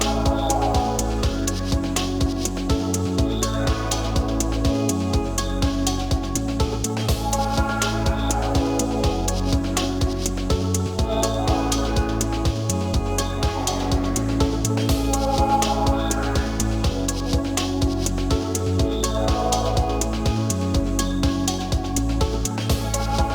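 Warm, organic electronica beat, layered with delay, vintage reverb and vinyl crackle: a looping groove of deep bass, steady percussion and bright melodic layers, playing continuously without talk.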